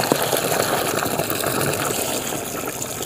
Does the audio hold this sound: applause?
no